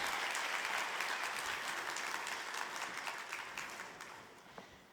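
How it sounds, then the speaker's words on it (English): An audience claps in a steady round of applause at a Super Saturday team event, a dense wash of many hands that holds strong and then gradually thins and fades toward the end. "give them a round of applause."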